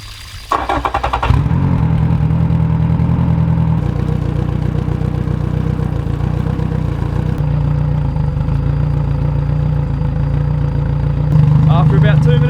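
An outboard boat motor on flushing muffs cranks and fires up, then settles into a loud, steady idle that runs continuously, with a brief change in pitch near the end.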